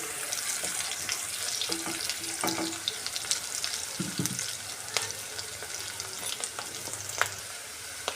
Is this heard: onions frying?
yes